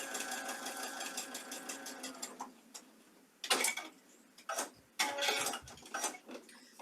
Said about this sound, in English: I'm going to stitch it and then press it